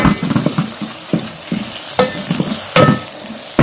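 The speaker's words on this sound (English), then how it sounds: "I'm going to mix it." A breakfast dish being mixed in a pan: a run of roughly eight close, distinct scraping and stirring strokes at an uneven pace, with a low background hiss and no voices.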